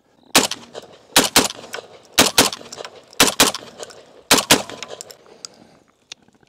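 A VR80 12-gauge shotgun fires nine loud, sharp blasts outdoors, grouped in quick pairs and triples with short pauses between bursts, each crack ringing out alone with no talk.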